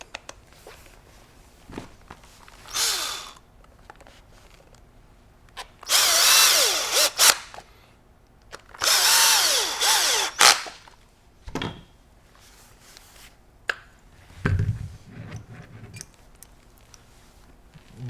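A power drill set to low torque backs out the recoil pad screws on a Benelli Ethos semi-auto shotgun. There are two loud sustained whirring bursts, with shorter buzzes and light handling clicks between them and no talk.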